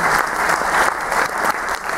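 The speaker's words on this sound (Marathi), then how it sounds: "इलाना यांच्यासाठी जोरदार टाळ्या होऊ द्या" Sustained applause from an audience at a Rangarang Fu Bai Fu show in Ashdod, Israel, dense and steady for the full two seconds with no voices over it.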